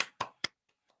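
Hands clap three times in quick succession, crisp and close, followed by two much fainter claps as the rhythm trails off.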